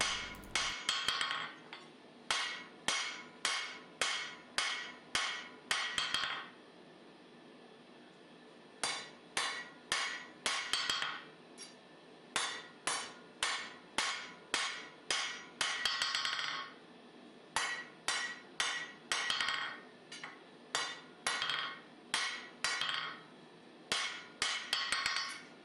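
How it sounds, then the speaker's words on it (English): A flat-faced English cutler's hammer strikes hot round stock while forging a knife, sharp ringing blows in rapid rhythmic bursts of about six to eight, separated by short pauses, close and loud. "Transitioning here to a flat-faced hammer, my English cutler's hammer"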